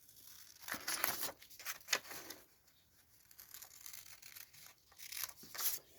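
Scissors cut out a paper craft piece with soft, close snips and crinkles. The paper sound comes in short bursts with quiet pauses between them.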